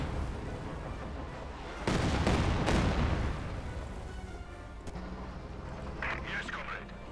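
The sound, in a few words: rockets and artillery firing in Company of Heroes 2 video game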